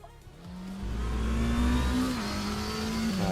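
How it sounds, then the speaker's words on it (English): A turbocharged race car in the RaceRoom racing game revs and accelerates, its engine note climbing steadily and growing louder over a few seconds, with a low rumble beneath. "I like hearing the turbos."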